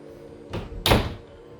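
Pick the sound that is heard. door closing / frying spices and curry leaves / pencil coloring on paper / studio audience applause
door closing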